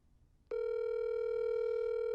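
A steady electronic telephone tone with no voice over it starts abruptly and holds as a single unbroken pitch. It sounds close and moderately loud.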